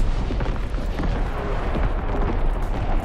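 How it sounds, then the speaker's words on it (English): A dense, rumbling roar of incoming enemy artillery explosions in Call of Duty: WWII team deathmatch at Sainte-Marie-du-Mont, loud and continuous with no break. "Incoming enemy artillery!"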